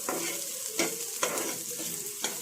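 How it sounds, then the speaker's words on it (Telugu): Onions fry in a pan as they brown, giving a soft, steady sizzle broken by several distinct spatula scrapes and stirs, close and moderately loud. "ఉల్లిపైన మనం బ్రౌన్ కలర్ వచ్చే వరకు కొంచెం వేయించుకోవాలండి"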